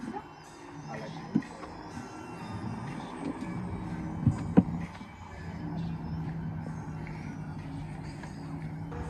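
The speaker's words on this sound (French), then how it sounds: "Porsche Panamera GTS." A Porsche Panamera GTS rolls past in a small French village street, a low engine hum and tyre rumble swelling and fading among other traffic, with someone talking in the background.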